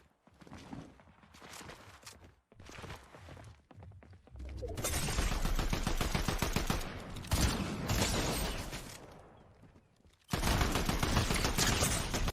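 Bursts of gunfire in a battle royale video game firefight, rapid automatic fire in several long loud volleys broken by short pauses.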